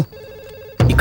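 A mobile phone rings nearby with a steady electronic tone, then a sudden loud burst of noise cuts in near the end.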